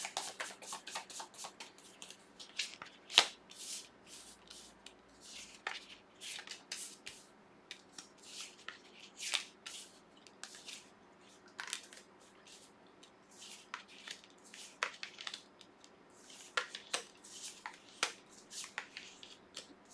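Tarot cards, slightly sticky in the heat, are shuffled by hand close up, a soft continuous riffling and slapping with brief rubbing pauses, quiet and with no talk.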